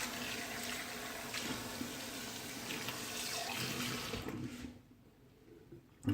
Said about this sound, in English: Rinse out my bowl.